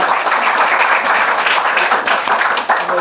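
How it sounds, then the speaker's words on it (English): Steady audience applause at an anniversary ceremony of the Washington Coalition for Comfort Women Issues, dense clapping from a full room held at an even level throughout. "A round of applause, please."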